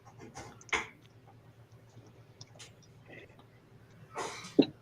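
A single sneeze bursts out near the end, after a few soft coughs or throat noises, with quiet background talk throughout.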